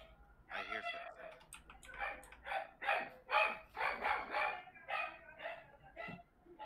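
A dog barks in a run of short, fairly quiet bursts close by, mixed in with people talking.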